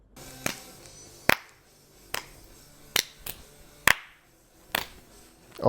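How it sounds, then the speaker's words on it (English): Sharp, isolated hand claps ring out one at a time with gaps of about a second between them, each crisp and close, over a quiet background with no talking. "Only 2 claps."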